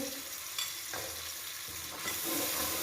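Garlic-ginger paste sizzles and crackles in a hot pan while a spoon stirs and scrapes intermittently, a steady close frying hiss throughout.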